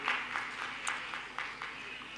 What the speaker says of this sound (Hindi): कैंसर हीलर सेंटर को भी ताली बजा करके हम लोग धन्यवाद देते हैं